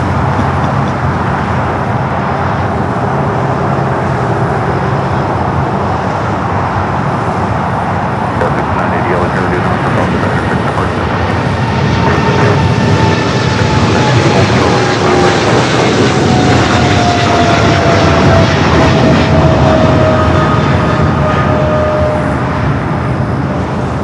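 A jet aircraft rolls down runway 25 left at Los Angeles International Airport, its engines producing a loud, sustained roar with a rising whine that swells and shifts as the plane accelerates nearby.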